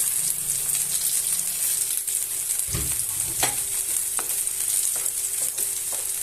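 Meat frying with garlic in a pan for baş kavurması, a steady loud sizzle running throughout, broken by a few scraping stirs and soft knocks of a utensil against the pan.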